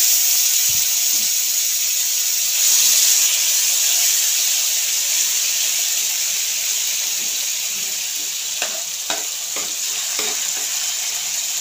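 Butter, red chili and pav bhaji gravy sizzle loudly on a hot nonstick tawa, a constant close frying hiss with scattered stirring scrapes and taps toward the end and no voices.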